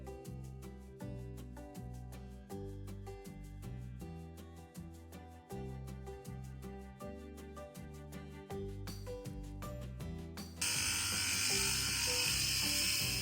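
Electric clippers shear a rescue Herdwick sheep, giving a steady, loud mechanical buzz with rhythmic pulsing strokes. The sound turns harsher and brighter near the end, with no talking.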